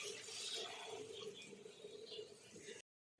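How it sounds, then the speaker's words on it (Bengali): Water poured into a pan of potato and paneer curry, a steady splashing rush close by that cuts off abruptly near the end. "এবার আমি একটু জল দিয়ে দেবো।"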